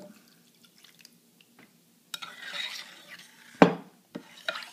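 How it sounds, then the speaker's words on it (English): Milk is poured into a pan of Idahoan Steakhouse Parmesan & Herb instant potatoes and stirred in, giving a brief soft pour followed by faint scraping and drip-like sounds in a quiet kitchen. "Last step is to add your milk."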